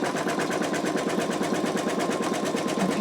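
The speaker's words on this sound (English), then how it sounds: "so now it is stitching the outer placement stitch here" An embroidery machine runs the outer placement stitch on an in-the-hoop wallet, giving a fast, steady rapid-fire needle rhythm that holds at an even loudness from start to finish with no voices.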